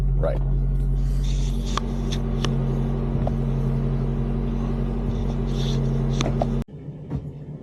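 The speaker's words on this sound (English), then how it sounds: "So there's a small mud hole here that we're just gonna go through a few times" A Toyota 4Runner creeps through a small mud hole, giving a steady low engine hum with a deep drone and occasional faint knocks and splashes. Faint talk may sit under it. The sound cuts off abruptly near the end.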